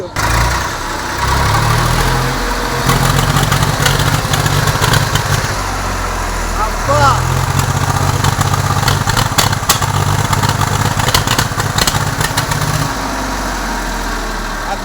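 A Swaraj 744 FE tractor engine, its silencer spitting fire and black smoke, chugs loud and close in a steady diesel idle, with its pitch shifting slightly as the revs dip and return, and faint clatter on top.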